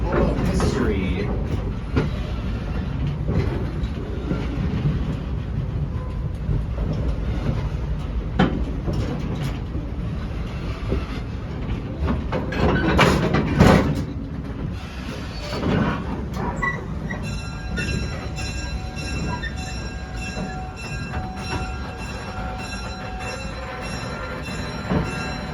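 A train rolling on rails past a Hobo boxcar, with continuous loud rumble, clatter and wheel noise, brief squeals and a louder passage midway, then settling into a steadier, quieter roll with faint high whine.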